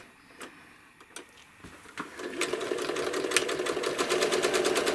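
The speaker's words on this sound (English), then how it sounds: "Since it's straight, I've turned up the speed on my machine." A sewing machine stitches straight lines across an apple core quilt. It starts with a few slow stitches, then its rapid, even whirring and ticking speeds up and runs steadily close by, with no talk.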